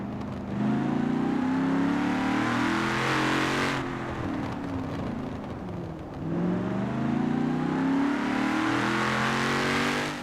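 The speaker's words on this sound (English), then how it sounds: "There's a little supercharger whine." Forza Horizon 4 game car engine droning loud and steady with a thin supercharger whine riding above it, easing off briefly midway, then building again, with no voices.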